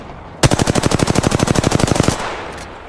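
Automatic weapon fire in the Apex Legends video game: one loud, close burst of about two dozen rapid, evenly spaced shots lasting under two seconds, then stopping abruptly.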